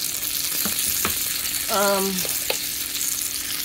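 Steady sizzling from fried chicken cooking without oil on a churro maker, a dense continuous hiss with a few soft clicks and a brief tonal whine near the middle, close up, with no talking.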